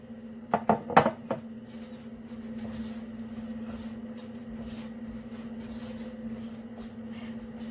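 Spoon clatters and scrapes against a pot while dalpuri filling of soya chunks, lentil peas and vegetables is mixed, a few sharp clinks near the start, then quiet shuffling over a steady low hum.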